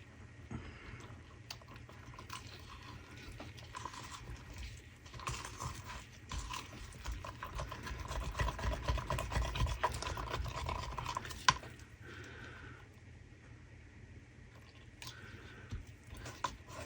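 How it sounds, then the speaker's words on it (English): Resincrete mix being stirred in a container ahead of pouring into moulds, a steady scraping, churning sound that runs for the whole stretch, swelling louder midway with a sharp knock near the end, with no talking. "let's give that a good stir"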